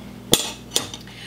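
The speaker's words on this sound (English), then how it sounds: "So put it in there like this, stir it around, and get it boiling until it starts to condense." A spoon knocks against a pot of date filling being stirred for date turnovers, giving two sharp, close metallic clinks about half a second apart and a fainter tap after, over a low kitchen hum.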